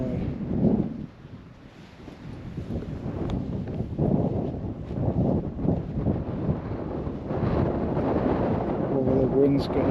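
Wind gusts outdoors at night, buffeting the microphone with low, uneven rumbling and rushing that swells and fades throughout, with a person speaking faintly at moments.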